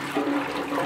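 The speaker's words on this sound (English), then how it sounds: "You actually have to pump it in order for it to flush." A toilet flushes after its handle is pumped, releasing a continuous close rush of swirling water through the whole short moment.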